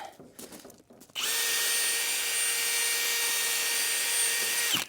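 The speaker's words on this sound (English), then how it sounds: "drill it right there." A power drill starts after about a second and runs steadily at a high whine for several seconds, drilling pool Z-form edging, loud and close, then cuts off.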